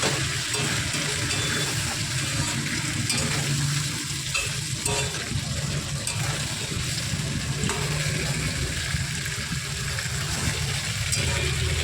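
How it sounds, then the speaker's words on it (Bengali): Fish heads frying in a pan of oil for a Bengali pui shak chorchori: a steady, dense sizzle that runs unbroken and fairly loud throughout, with soft stirring scrapes mixed in. "মাছগুলো এতেই খুব ভালোভাবে ভাজা হয়ে যাবে একদম।"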